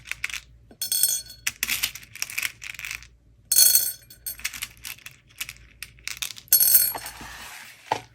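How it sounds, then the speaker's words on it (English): Small pearl beads clicking and clinking as they are picked up and handled, in irregular bursts of light rattling taps close by with short quiet gaps between. "So I'll take a few of these small pearls."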